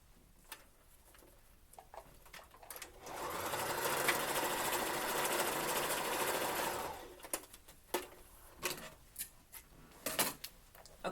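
Up close, a sewing machine runs a steady burst of stitching through elastic for about four seconds, framed by quiet handling clicks and taps before and after.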